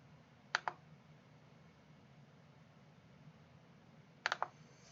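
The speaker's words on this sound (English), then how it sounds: "click on the Print button" Two quick mouse clicks in quiet office software work, one single and one double, sharp and close against faint background hiss.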